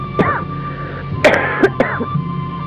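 A man's dry coughing and throat clearing in a quiet room, three or four short raspy bursts spaced over a couple of seconds, close to the listener with no talk over them.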